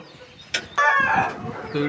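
Country chickens in a coop give a short, loud squawking cluck after a sharp knock, ending with another brief call nearby.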